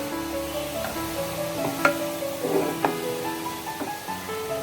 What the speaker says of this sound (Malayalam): അതിലേക്ക് ക്യാരറ്റ് ഇട്ട് കൊടുക്കാം